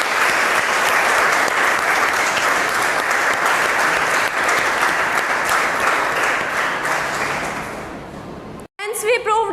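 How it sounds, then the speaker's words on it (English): Students in a school classroom applaud after a classmate answers, giving a loud, sustained burst of clapping for about eight seconds that stops abruptly, followed by a short voice. "Clap for Kanika."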